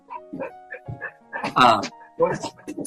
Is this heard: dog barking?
yes